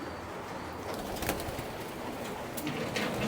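Kept pigeons coo softly in an aviary amid a dense, steady bed of rustling and shuffling, with occasional brief wing flutters and faint chirps mixed in.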